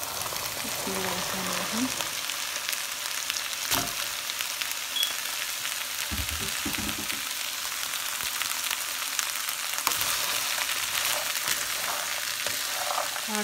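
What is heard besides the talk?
chickpeas frying in a pan with turmeric, salt and chili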